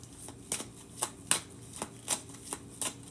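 Playing cards being shuffled, a run of crisp riffling bursts at a fairly steady pace, close and clear, with no talking.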